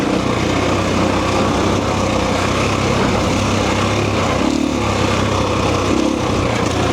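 A Husqvarna FE 501 four-stroke dirt bike ridden along, its single-cylinder engine droning loud and steady throughout with slight shifts in pitch and dense wind noise, no talk.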